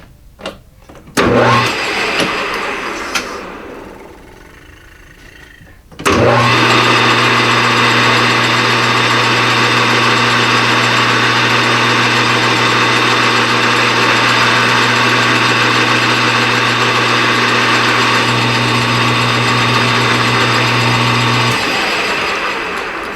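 A lathe starts up with a steady running hum and whine while facing a carburetor breather stud, after a brief earlier burst of motor sound, continuing evenly for about fifteen seconds before slowing down.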